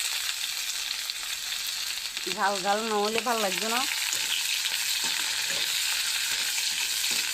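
Green chillies and ginger fry in hot oil with a continuous, even sizzle, while a voice speaks briefly over it.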